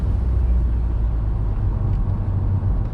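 A 2013 Nissan Altima with a CVT transmission accelerating normally, heard from inside as a steady low engine drone with road rumble, smooth and continuous without distinct shift changes.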